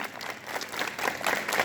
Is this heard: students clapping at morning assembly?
yes